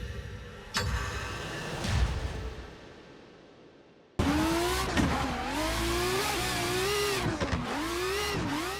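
Simulated car engine revving hard with rising and falling pitch in a drifting racing video game, loud and continuous after a quieter opening stretch of fading engine drone.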